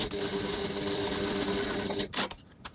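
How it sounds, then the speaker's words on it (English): Sewing machine topstitching close to the D-ring hardware on a crossbody bag, with a 3.5 stitch length, running steadily for about two seconds before stopping with a short clatter. "we're going to go over to the sewing machine, and we're going to top stitch as close as we can to the D-rings"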